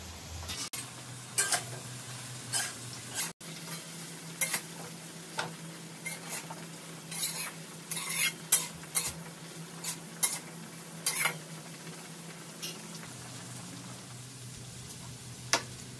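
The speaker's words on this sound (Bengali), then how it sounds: "এবার ওর মধ্যে পাতাকপিগুলো দিয়ে দিচ্ছে।" Cabbage stir-frying in a pan with carrots and beans, a steady low sizzle with repeated clinks and scrapes of a utensil stirring throughout.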